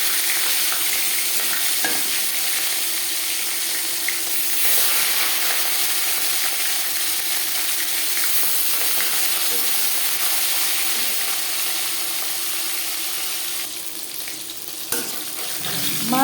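Marinated fish fries in four spoons of hot refined oil in a pan, a steady, even sizzle and crackle that continues for the whole stretch, with a few small clinks near the end.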